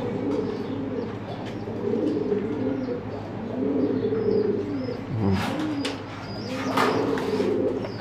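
Iranian fancy pigeons coo steadily in a loft, low rolling calls overlapping throughout, with a few brighter flutters or chirps near the middle and end.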